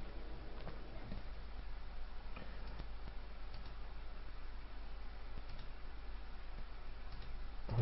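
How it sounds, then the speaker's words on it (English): A computer mouse clicks faintly and sparsely, a few scattered sharp ticks over a low steady background hum, with no one speaking. "keep clicking on this action"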